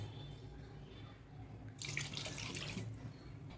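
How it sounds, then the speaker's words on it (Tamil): Water pours into a pot of hotel-style sambar in a home kitchen, a bright splashing rush starting partway through over a low steady background hum, with no talking. "இப்போ இதுக்கு நீங்கள் தேவையான அளவு தண்ணி சேர்த்துக்கலாம்."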